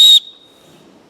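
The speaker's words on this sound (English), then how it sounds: "it has an integrated whistle to it. So your headlamp can be used for signaling." Whistle built into a Foxelli MX500 rechargeable headlamp, giving one short, shrill, piercing blast that is loud and close, then cuts off sharply into near silence.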